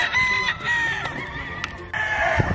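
A Basilan native rooster, a free-range purebred Jolojano chicken, crows loudly and close, with other fowl clucking and calling in the background of a farmyard.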